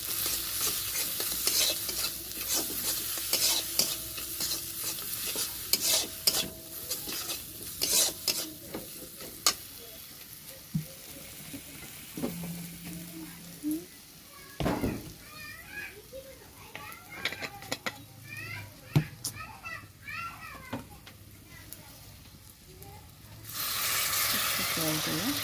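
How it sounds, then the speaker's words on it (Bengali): Spice paste frying in a pan with a little water added, for a Bengali catfish curry, heard as bursts of sizzling and scraping stirring, with children's voices and talk in the background and a louder hiss at the end. "জল দিলাম মশলাটা কষানোর জন্য একটু জল দিলাম"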